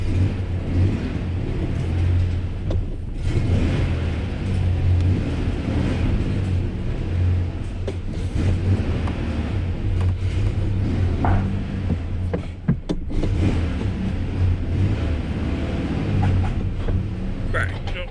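A Ford Ranger pickup engine with a bad vacuum leak idles with a low, uneven rumble and a steady hiss, close by, while a person talks over it.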